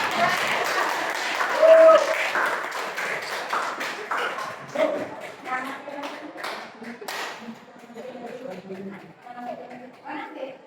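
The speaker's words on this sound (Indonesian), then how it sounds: "Kasih aplaus dong." An audience at a school meeting breaks into a round of clapping that starts full and thins out to scattered claps, mixed with voices talking nearby.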